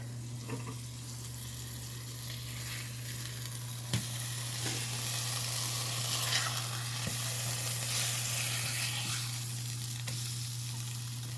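Cube steaks searing in a pan, a constant soft sizzle under a low steady hum, with occasional clicks and clatters of utensils.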